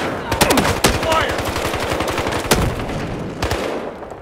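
Automatic weapon fire in the video game Battlefield Hardline, rapid loud bursts of rattling gunshots with a couple of sharp single cracks, close and dominant.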